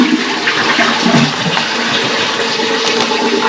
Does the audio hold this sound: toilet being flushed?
yes